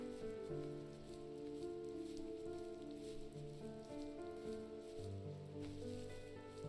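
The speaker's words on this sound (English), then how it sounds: "I like the rain." Soft, steady rain falls in the video game The First Tree, a quiet continuous patter under sustained musical tones.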